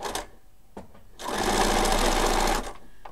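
A sewing machine runs a steady burst of stitching along a fabric seam, loud and close, lasting about a second and a half after a couple of brief mechanical clicks.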